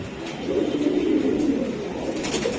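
Several Giribaz high-flyer racing pigeons of the Old Dhaka loft line coo steadily and close by, soft overlapping throaty calls filling the whole stretch with no talking.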